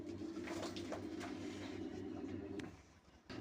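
Domestic pigeons cooing in a loft, a steady low rolling coo running continuously and fairly close for most of the clip before easing off near the end.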